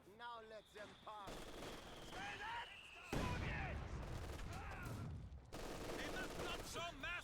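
Gunfire from all arms in a strategy video game battle: dense, continuous rattling of machine guns and rifles with loud bursts throughout, and voices talking over the fire.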